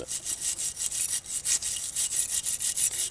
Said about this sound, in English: I'm going to give them a little bit of a cleanup here too with the brush